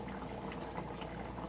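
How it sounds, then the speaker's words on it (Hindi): Water boiling in a pot as the base for chicken pulao, a steady low bubbling simmer that continues evenly throughout, close and moderately quiet with no talking. "पानी हमारा बॉयल हो रहा है"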